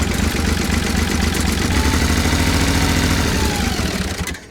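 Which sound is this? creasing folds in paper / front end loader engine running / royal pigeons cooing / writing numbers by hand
front end loader engine running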